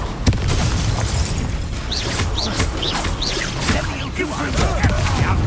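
Confringo blasting spell explosions going off in the Hogwarts Legacy video game, a dense run of loud booms and bursts layered with whooshing spell effects and combat clatter, continuous over the whole stretch.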